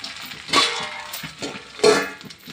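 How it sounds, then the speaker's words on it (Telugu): Curry leaves and dried red chillies fry in a pan over a low flame, with a steady sizzle and two louder bursts of stirring and scraping close by. "ఇప్పుడు ఇందులో కరివేపాకు కూడా వేసేసి ఫ్రై చేసేద్దాం."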